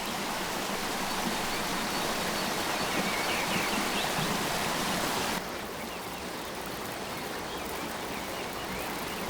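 A steady, dense rush of falling water from a waterfall in the wild fills the scene without a break, shifting slightly in tone partway through, with no voices.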